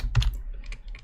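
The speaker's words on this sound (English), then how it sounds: "I'm typing in the dark and I don't have a lit keyboard" Keys clack in a quick burst on an unlit computer keyboard, several close, crisp taps followed by lighter, scattered strokes, with no talking.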